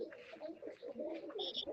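Pigeons coo in low, throaty bursts, repeated close by across a short stretch, with a brief higher chirp near the end.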